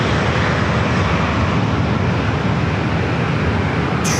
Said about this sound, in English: That was Alaska flight coming in from Atlanta,